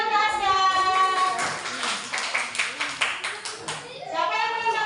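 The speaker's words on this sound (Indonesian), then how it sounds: "Tepuk tangan untuk Asgar" A classroom of second-grade children breaks into a burst of rapid applause, the clapping loud and close for a few seconds with an adult and children speaking over and around it.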